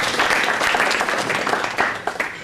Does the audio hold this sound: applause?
yes